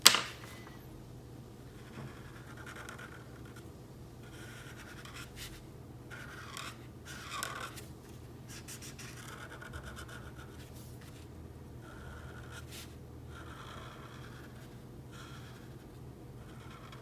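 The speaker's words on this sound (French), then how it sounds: "on utilise un feutre à alcool noir pour mettre une épaisseur tout autour de notre stickers" A black alcohol marker rubs and scratches steadily around the edge of a sticker, drawing a thick outline in short strokes and pauses, faint and close, with no talking.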